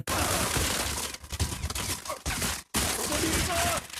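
Rapid bursts of gunfire in the mobile shooter Modern Combat 5: Blackout fill the clip almost continuously, loud and dense, breaking off briefly twice.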